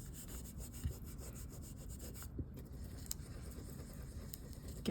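Steady rubbing of a tool burnishing a wooden crafting surface to smooth down high spots, a continuous close, soft scraping texture with a few brief knocks, no talking.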